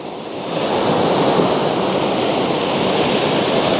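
The River Ffyddion in Dyserth rushing over its riverbed, a loud, steady and close broadband roar of flowing water that swells in after the first half second and holds without talk.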